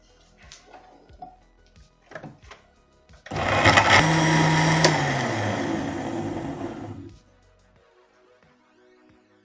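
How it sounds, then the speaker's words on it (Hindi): An electric blender whirs loudly for about four seconds, blending litchi juice with sugar in a home kitchen, starting abruptly after a few light clatters and cutting off to near silence. "ब्लेंड कर लेंगे इसे अच्छे से।"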